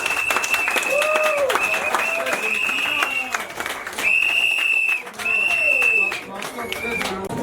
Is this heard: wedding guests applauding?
yes